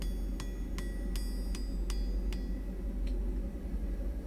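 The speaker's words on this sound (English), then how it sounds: "Just tighten it up a bit with a hammer." A hammer strikes hot iron on an anvil at a blacksmith's forge, six evenly spaced ringing metallic blows followed by one fainter tap, over a steady roar of the forge fire.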